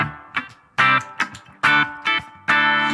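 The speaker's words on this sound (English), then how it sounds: "we're just going to engage the reverb. And I put the reverb before. It's a spring reverb." Electric guitar through a BOSS GT-1000 with spring reverb placed before a clean amp channel: several separate strummed chords with sharp attacks, each ringing out and decaying with a reverb tail between strums, close and clear with a slight edge of grit.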